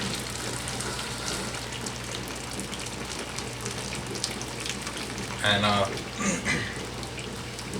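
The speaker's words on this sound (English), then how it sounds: "I am gonna put them in the sink and rinse them with cold water" Cold tap water runs in a kitchen sink over shredded potatoes being rinsed, a steady broadband rush with brief splashy bursts, close and fairly loud, with a voice talking over part of it.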